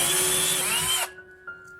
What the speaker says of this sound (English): Drill the old holes slightly wider.